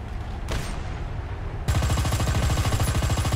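A tank in War Thunder fires, first single heavy shots over engine rumble, then a sharp switch to sustained rapid machine-gun fire in a dense, even rhythm. The bursts are loud and close, with no speech.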